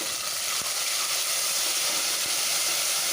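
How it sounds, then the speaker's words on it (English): Continuous loud sizzling hiss of ginger garlic paste frying with mutton in a hot pan, a dense steady crackle with a few faint clicks, no voices. "Fry this very well"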